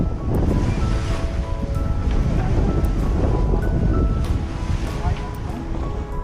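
Wind and surf rush steadily around a sailboat crossing the Pacific in about 12 knots of wind at 6.5 knots, a dense, continuous roar of waves and wind buffeting the microphone, loud and close throughout.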